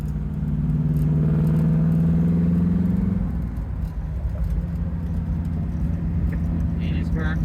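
Beautifully restored 1969 Camaro Z28 with its original DZ302 V8 and 5-speed, heard from inside while driving in fifth gear: a loud, steady engine rumble and road noise, with people talking over it.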